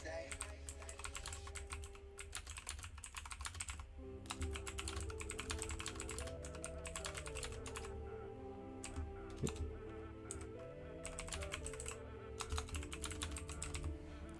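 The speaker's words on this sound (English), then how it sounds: "Click clack of the keyboard." Close, rapid click-clack typing on a computer keyboard runs in steady bursts with brief pauses, over a faint humming background.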